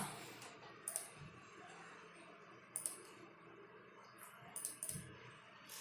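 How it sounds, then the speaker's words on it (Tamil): Keys clicking on a computer keyboard while Python code is typed, a few quiet bursts of clicks spread over a soft background hiss, close but low in level. "இப்போ நான் கோடிங் டைப் பண்ணிக்கலாம்"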